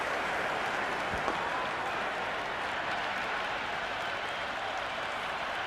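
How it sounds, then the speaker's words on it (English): A dense, steady roar of applause and cheering fills a cricket stadium during an Afghanistan versus Zimbabwe match, continuous and loud throughout without a break. "It's evident and ever so audible that the crowd is at near bursting point at today's play."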